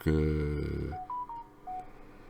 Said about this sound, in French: le téléphone qui fait du bruit